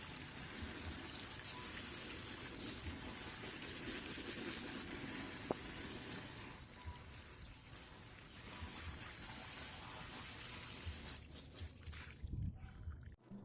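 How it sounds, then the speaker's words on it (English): Water rinsing soil off Calathea plant roots, a steady faint hiss of running water with dripping and trickling, fairly continuous before tapering at the end. "To make this separation process easier, we water the root by water until clean."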